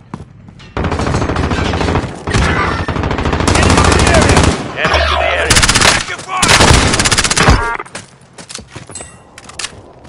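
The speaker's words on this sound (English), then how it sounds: "Assault rifle here." Automatic assault rifle gunfire in the Call of Duty Warzone video game, loud sustained bursts of rapid shots starting and stopping repeatedly with brief pauses between volleys, close and dominant.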